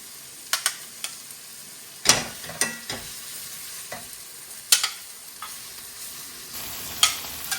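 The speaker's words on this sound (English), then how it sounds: "Now I'm going to put the pork chops back on." Pork chops go back into a hot pan over mushroom soup, setting off a soft crackling sizzle broken by sharp clicks and scraping knocks from stirring and handling, with no one speaking.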